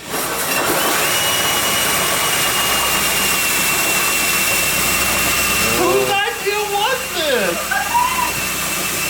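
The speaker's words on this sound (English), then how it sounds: "Is this drill strong enough?" A power drill with a hole saw cuts into the body of a 2018 Ford Mustang GT, giving a loud, steady grinding whine throughout, with voices briefly heard over it late on.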